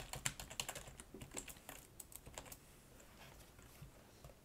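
Rapid clicking of a computer keyboard as JavaScript code is typed, close and fairly quiet, with irregular bursts of keystrokes that thin out toward the end; no voices.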